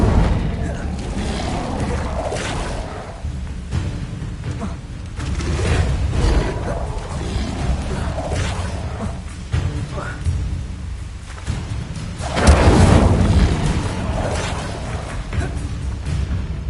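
Fire spell blasts in the Hogwarts Legacy video game, heavy booming bursts with a roaring rumble, one especially loud blast near the end, layered over continuous game combat noise.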